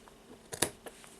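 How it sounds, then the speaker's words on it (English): Scissors cut through a twisted bracelet cord, a quiet, close snip with a sharp double click in the middle and a couple of fainter clicks around it. "now I will take the scissors and cut"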